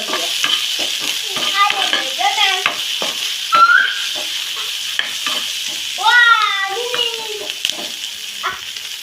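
Paneer stirred with salt, turmeric and spice masala in a frying pan, a soft sizzle and scraping stir under a voice and high cat-like cries that rise and fall through the middle.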